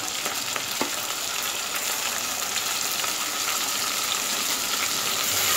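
Chopped tomatoes sauté in a pan for a spicy egg dum biryani with a dense, steady frying hiss up close, one or two faint stirring clicks early on, and no talking.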